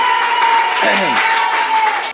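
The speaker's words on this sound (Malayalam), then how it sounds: "ഒരു കൈയടി കൊടുത്തേ" An audience at a children's talent event claps at the host's call, a dense burst of applause and crowd noise that runs steadily and close for about two seconds.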